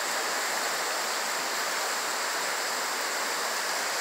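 Swollen river rapids churn after a rainstorm with a steady, dense roar of rushing water. The hiss stays close and unbroken throughout, with no voices.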